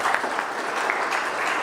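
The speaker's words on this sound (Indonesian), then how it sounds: "Aplaus untuk mereka" A crowd applauds at a business presentation, a dense, steady clapping that fills the space evenly throughout with no pause.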